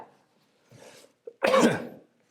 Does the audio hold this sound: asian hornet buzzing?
no